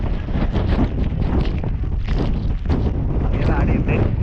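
Strong gusts buffet the microphone high up on a mountain, a dense, rumbling roar with no pause. A voice is faintly heard under it.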